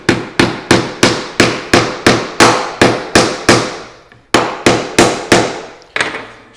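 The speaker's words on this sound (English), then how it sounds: "Gonna hammer that right in there like that." Loud, evenly spaced hammer blows driving a nail into hardwood, about a dozen sharp ringing hits with a short pause partway through.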